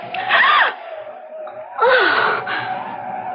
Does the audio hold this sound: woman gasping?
yes